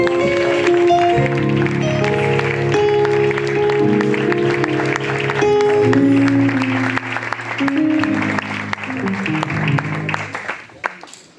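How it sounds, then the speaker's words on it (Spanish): A church congregation applauds steadily and loudly for several seconds during a service, over sustained organ-like music, the clapping thinning out toward the end. "aplauso al Señor"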